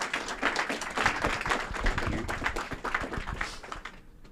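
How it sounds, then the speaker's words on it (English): Summit attendees clap for an arriving speaker, a dense burst of hand claps from a seated crowd that holds steady and then fades away. "So please give a round of applause to Al Qatar."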